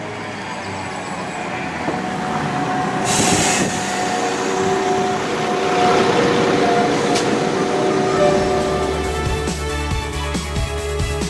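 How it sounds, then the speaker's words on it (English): A train pulls into a West Midlands station on the line toward Dorridge. A close rumble of wheels rises and settles, with faint squealing tones and clicks toward the end, and no voices. "So hopefully my train should be arriving now to take me to Dorridge"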